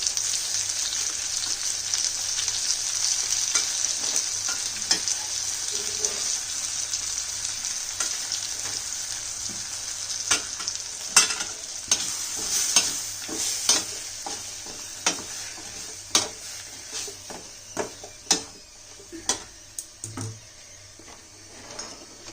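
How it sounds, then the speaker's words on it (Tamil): Tamarind curry powder and chili powder sautéing in a pan for a Tamil fish curry (meen kulambu): a steady close sizzle with stirring scrapes, then sharper utensil clicks and taps toward the end. "புளிக்குழம்பு தூள், மிளகாத்தூள் இதிலே கொஞ்சம் பாதி போட்டுற போகிறோம் இப்போ வதக்கிறதுக்கு."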